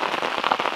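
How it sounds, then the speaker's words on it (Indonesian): Rain falling on a tent flysheet during a thunderstorm in the forest, a dense close patter of drops drumming on the fabric, steady and fairly loud over a brief moment. "Air hujan yang jatuh kena flysheet."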